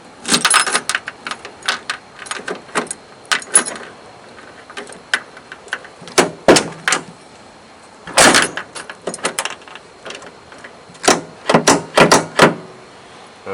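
A door key rattles and clicks in the door lock of a 1979 Ford truck, with repeated sharp metallic jangles and clunks in irregular bursts, close up and with no voices.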